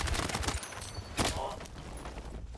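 Bursts of gunfire from the Battlefield 6 video game crackle in rapid strings of sharp shots, loudest early on with a hard crack near the middle, then trailing into lighter scattered fire.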